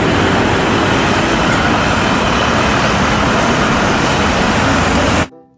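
A loud, steady engine rumble from a toy double-decker bus, with broadband roar, continuous for about five seconds before cutting off abruptly.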